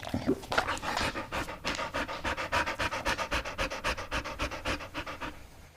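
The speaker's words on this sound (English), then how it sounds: "This is a rapid, shallow breathing sound that dogs make when they are hot or after exercising." A dog pants rapidly and shallowly, the breaths coming in a steady, even rhythm of quick puffs, close and fairly quiet, heard alone.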